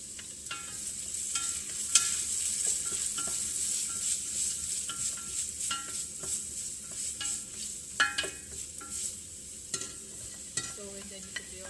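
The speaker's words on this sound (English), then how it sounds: "you just saute everything until it's totally translucent" Ginger and onions sautéing in a pan: soft steady sizzle with repeated scraping and stirring clicks of a utensil against the pan, close and moderately quiet, no talking.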